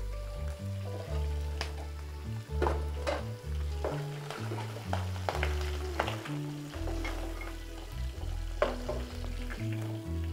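A fish head fries in hot oil, a steady crackling sizzle with scattered pops, close and continuous, with a low background tone underneath.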